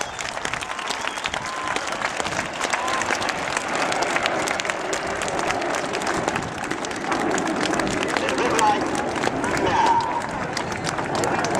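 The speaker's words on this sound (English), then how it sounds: "Let's have a big round of applause for the Red Arrows!" An airshow crowd applauds the Red Arrows display team, a dense sustained wash of clapping from many people heard at a distance, with a commentator's voice running over it.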